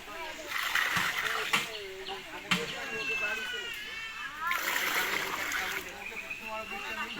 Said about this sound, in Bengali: মাংস ধোয়া হচ্ছে